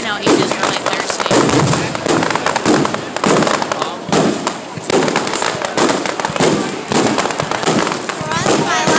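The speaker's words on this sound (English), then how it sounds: "For once in my life, I'm very afraid of fireworks." A big small-town fireworks display in Northern Wisconsin, with loud, repeated booming bursts and crackling explosions in irregular clusters. People talk quietly between the blasts.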